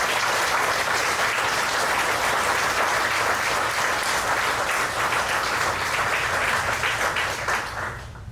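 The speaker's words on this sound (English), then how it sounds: "Let's give them a round of applause." Loud, sustained applause from an audience at an Eagle Scout court of honor, many hands clapping densely and evenly before tapering off at the very end.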